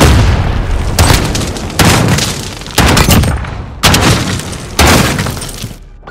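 Loud, close gunshots from a Call of Duty: Modern Warfare Gunfight round crack out one after another in a steady rhythm, each blast followed by a ringing tail, with no talking.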